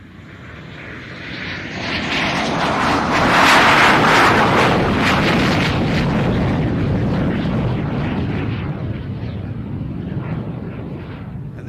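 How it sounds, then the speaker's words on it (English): A first-generation American fighter jet makes a low, slow airshow flyby, its engine roar swelling to a loud peak and then easing off, with wind buffeting the microphone. "Listen to the roar of the engine of America's first generation fighter jet."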